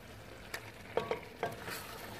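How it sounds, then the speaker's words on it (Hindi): Beef paye frying in ghee in a pot gives a soft, steady sizzle with a few brief stirring scrapes and clinks, quiet and close with no voices. "अब हम इसमें घी डाल के इसको अच्छी तरह से भून लेंगे।"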